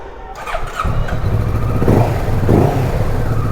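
A Kawasaki Versys 650 motorcycle fires up close by, and the engine settles into a steady, fairly loud idle.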